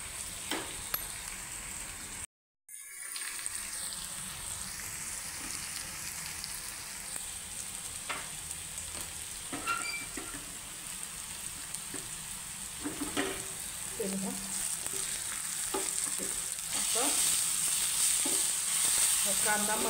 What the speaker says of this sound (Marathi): आणि बारीक चिरलेला एक मूठ लसूण हा पण भाजूनच घ्यायचा आहे।